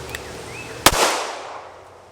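A single live round fired from a Springfield Hellcat pistol, one sharp loud crack near the middle followed by a short fading echo, with no talking.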